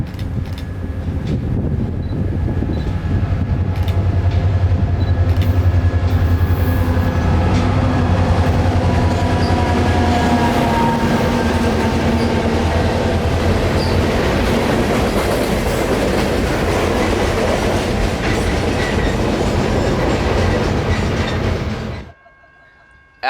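Freight train 0719 diverges off the CH spur onto track 2 and rolls down the hill toward Winston Yard, a loud, sustained rumble with clattering wheels and faint squeal, close by, ending abruptly.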